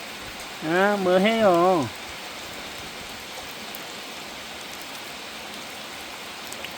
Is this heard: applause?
no